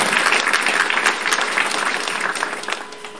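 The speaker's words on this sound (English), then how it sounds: "give a big applause as an appreciation for that" Audience applause for the organizers at an inaugural function at St. David's College, Kolkata, a dense steady crowd clapping that fills the room and tapers slightly toward the end.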